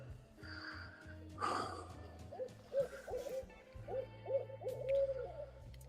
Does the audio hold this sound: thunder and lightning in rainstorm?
no